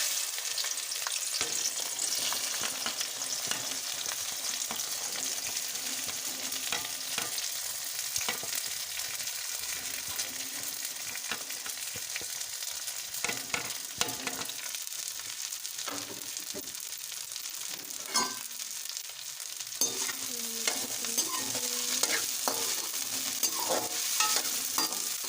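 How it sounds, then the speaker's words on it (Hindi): Okra (bhindi) frying in hot oil for a masala fry gives a steady, dense crackling sizzle throughout. Intermittent stirring scrapes sound close by, and no one speaks. "हमारा ऑयल गर्म है तो इसमें हम अपना भिंडियाँ ऐड कर लेंगे"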